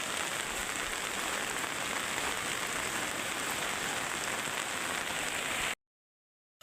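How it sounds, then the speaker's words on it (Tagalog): Heavy typhoon rain pours steadily in Masbate Province, a dense, constant hiss with wind gusts, loud and close throughout before cutting to silence near the end. "Napakadilim, malakas na ulan na may kasama bugso ng hangin."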